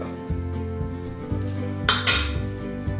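A spoon stirs banana mug cake batter in a small mug, knocking and scraping against the ceramic in quick repeated clinks, close and fairly loud, with music playing underneath.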